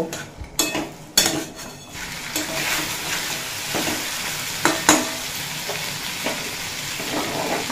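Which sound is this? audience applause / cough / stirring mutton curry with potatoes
stirring mutton curry with potatoes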